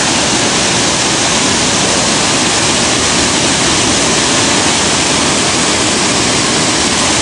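A dense, constant roar of falling water from a small waterfall at Sagada Falls in the Philippines, loud and close, with no break from start to finish.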